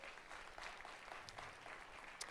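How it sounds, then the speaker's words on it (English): An audience at a 1 Million Cups community gathering in Fargo, North Dakota gives a round of applause, a faint, distant wash of many hands clapping steadily. "Let's give them a round of applause."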